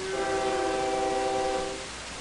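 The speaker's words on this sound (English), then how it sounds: "now we're running 2 trains at once. And they're going along a pretty good clip." Trains in the simulation game Transport Tycoon Deluxe (OpenTTD) sound a loud, sustained steady horn-like tone lasting nearly two seconds over a rumbling rail background, with no voices.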